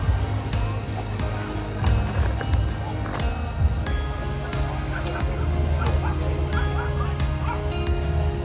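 Several dogs bark and yip repeatedly at a dog training centre at an outdoor flower show, a busy chorus with occasional whimpers, loud and close over a low background hum.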